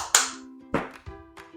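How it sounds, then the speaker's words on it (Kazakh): Hands clap three or four times in quick, uneven succession, sharp and close, in a quiet room. "Шапалақ, шапалақ, шапалақ"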